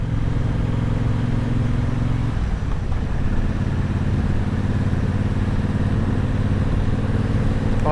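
A big motorcycle with a new exhaust rumbles steadily at close range, its low exhaust note shifting pitch partway through as the revs change, with no talking.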